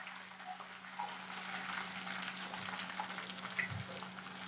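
Asafoetida dropped into garlic heating in oil in a pan for Maharashtrian pithla, giving a soft, continuous sizzle and crackle heard close but quiet, with a low steady hum underneath.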